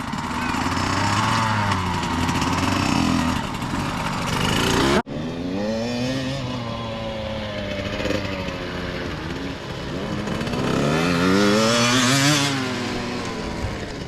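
Two-stroke motorcycle engines rev loudly and continuously, pitch climbing and falling with the throttle. A brief dropout comes partway through before the raspy drone resumes.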